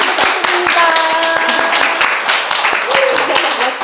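Audience applause for an author at a book concert, dense steady clapping from many hands filling the room throughout, with a few voices and tones faintly mixed in.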